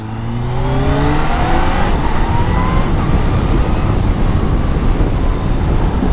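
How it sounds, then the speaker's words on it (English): A supercharged 2022 Kawasaki ZH2 SE motorcycle accelerates hard at quarter throttle using its quick shifter, the engine note climbing through several quick upshifts, loud and close throughout. "even quarter throttle like that with using a quick shifter, it accelerates pretty quick."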